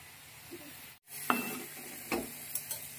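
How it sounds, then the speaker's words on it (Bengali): Red amaranth greens frying in a pan over low gas, giving a steady close sizzle with a few stirring scrapes and clinks of a utensil against the pan, no voices. "আস্তে আস্তে শাকটাকে ভেজে নেব।"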